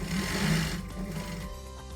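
A domestic sewing machine stitches a run of fabric with a steady, fast mechanical whir that slows and winds down near the end, close and alone.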